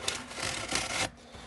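A Spyderco Caparo knife blade slices through a package's tape and cardboard in a short, close scraping rub lasting about a second, then quiet.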